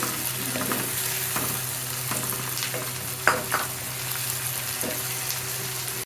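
Prawns fry with plenty of garlic and green chili, a constant close sizzle with intermittent stirring scrapes and a sharper tap near the middle, no talking.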